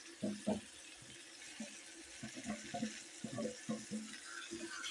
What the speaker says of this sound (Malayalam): ഒരു ഗ്ലാസ് വെള്ളം കൂടെ ഒഴിച്ച് നമുക്കിത് അഴച്ചെടുക്കണം